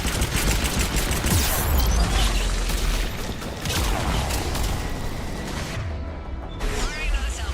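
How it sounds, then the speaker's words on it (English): A missile salvo fired in Mass Effect 3 makes a dense, continuous roar of rapid blasts and rumbling explosions. It stays loud throughout and eases briefly before picking up again near the end. "Missiles away."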